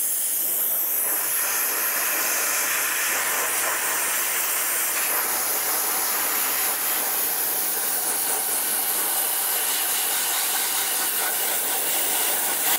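A dry ice blasting wand cleans an E36 M3 undercarriage with a loud, continuous, unbroken blast of rushing air that stays close and steady throughout.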